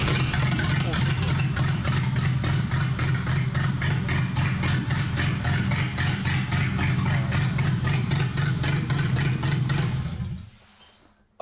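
A car engine fitted with a newly installed J3 chip runs rich. It holds a loud, steady, close idle for about ten seconds, then dies away at the end.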